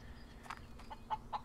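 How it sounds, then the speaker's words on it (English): Chickens cluck in the barn-restoration game Barn Finders, a few soft, short clucks spaced across the moment, faint and fairly distant over a low room hum. "Chickens?"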